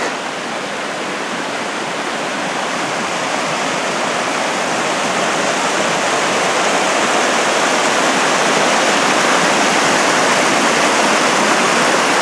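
Tamanos Creek, a mountain creek with snow still lingering nearby, rushes in a loud, steady, broadband roar of fast-flowing water that swells slightly over the course and continues unbroken throughout, with no voices.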